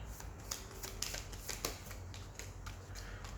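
Tarot cards being shuffled and drawn during a reading, giving soft repeated riffling and snapping flicks at close range with no talk.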